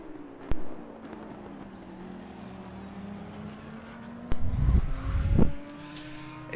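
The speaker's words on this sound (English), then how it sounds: "Listen to that Bentley" Bentley GT3 race car on the Kyalami circuit, its engine drone rising and falling in pitch as it passes, with a couple of sharp clicks and a louder rumbling surge near the end, heard at a middle distance.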